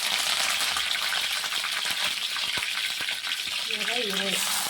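Curry leaves drop into hot oil already crackling with cumin and mustard seeds, producing a loud, continuous close-up sizzle with scattered popping ticks and a brief wavering whistle-like tone near the end.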